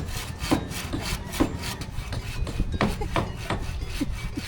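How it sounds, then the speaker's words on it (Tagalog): A hand saw pushed slowly through bamboo, with repeated rasping strokes at a steady back-and-forth rhythm, close and moderately loud. "Sinubukan ko rin maglagari ng kawayan"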